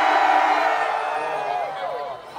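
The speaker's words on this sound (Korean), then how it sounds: "신입생들만 소리 질러!" A concert crowd of university freshmen screams high and loud at an outdoor campus festival show, a dense shrill roar that fades as the cheering dies down, with a voice briefly over the end.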